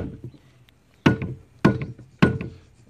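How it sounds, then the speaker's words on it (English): Three dull, solid taps of a rubber mallet on aluminum, spaced about half a second apart after a quiet start, close and fairly loud, each with a short thud. "you want to get your rubber mallet out. Give it a few little taps."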